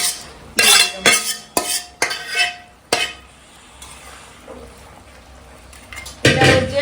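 Fried cauliflower, fish and bori tipped into a pot of curry: a run of loud clinks and scrapes of a metal spoon against the pot, then quieter stirring through bubbling liquid, ending with another sharp clatter.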